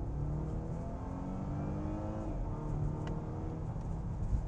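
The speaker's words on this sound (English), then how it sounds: "I guess a 2-litre four-cylinder engine never can sound that great." A 2019 Volvo S60 with a 2-litre turbocharged four-cylinder accelerates hard in dynamic mode, heard from inside as a steady, moderately loud engine drone with rising harmonics and no talking.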